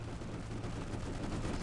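Gunfire in the Wings of Duty flight combat game, with dense, rapid shots blurring into a constant crackling barrage at low volume and nobody speaking.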